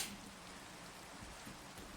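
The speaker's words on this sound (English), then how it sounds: "of course it's raining" Rain falling in Minecraft, a steady soft hiss of drops that stays even and faint throughout with no voices.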